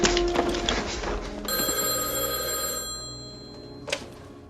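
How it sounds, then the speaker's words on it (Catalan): An old-style telephone bell rings in a sustained metallic burst lasting a couple of seconds, preceded by a noisy clatter and followed by a short second jangle as it trails off. "Telèfon? Telèfon?"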